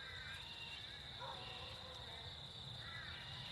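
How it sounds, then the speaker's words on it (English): Birds call outdoors at a cemetery in the evening, crow-like caws and chirps sounding faintly over a steady high insect drone. "listening to the birds that are still out."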